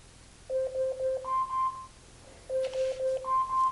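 An Amazon Echo Dot timer alarm sounds as two rhythmic bursts of bright electronic beeps, each a quick run of short tones ending on a higher held note, close and clear with a pause between bursts.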